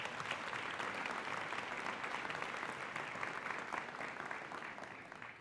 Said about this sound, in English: Another round of applause for our school staff.